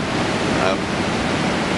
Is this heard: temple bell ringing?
no